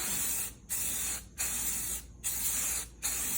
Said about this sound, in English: whenever you're starting to paint, don't spray directly on it